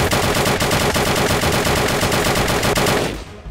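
Sustained automatic fire from a Bren Mark II machine gun in Blade and Sorcery Nomad, a loud, rapid unbroken burst of shots lasting about three seconds before cutting off abruptly and fading.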